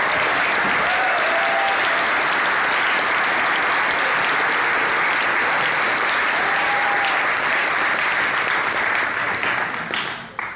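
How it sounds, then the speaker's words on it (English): A large conference audience at a Zeitgeist Movement Z-Day event gives long, loud, continuous applause for a speaker, a thick sustained roar of clapping with faint crowd noise that fades at the very end. "Give a big applause, Peter Joseph."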